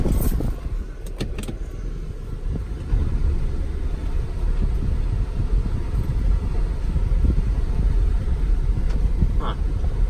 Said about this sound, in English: It's driving like something's clunking in the front